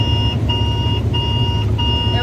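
A farm video game's grain-cart-full alert repeats as steady electronic tone beeps with short gaps, sounding over a constant low engine rumble.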